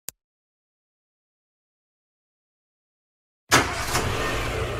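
A car engine starts running partway through, a steady, fairly loud motor rumble with some revving that continues to the end after a long silence.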